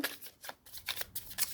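A Kipper card deck is shuffled by hand, giving quiet, close riffling bursts of papery card slaps in a quick, uneven rhythm with brief pauses between.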